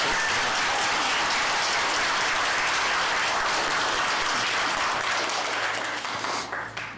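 Sustained, loud applause from a room of reporters at a Korean party leader's New Year press conference, steady for about six seconds before tapering off at the end, with no talk over it.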